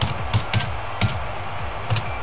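Keys on a computer keyboard clack in short, irregular clusters of taps, close and fairly crisp, as someone types one-handed, with no speech over it.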